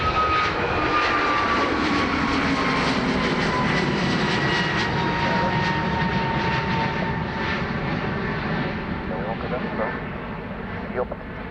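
An Aer Lingus Airbus A321XLR jet at Dublin Airport roars loud and steady throughout, its engine noise holding strong with a faint whine sliding downward, while a voice talks over it.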